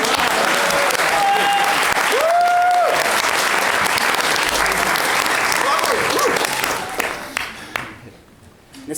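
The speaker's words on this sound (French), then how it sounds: "Tu peux applaudir." A festival crowd at the 40th Festival Bruxelles Babel, a Back to the 80's show, claps loudly and steadily with a few rising whistles, then the applause thins out and fades near the end.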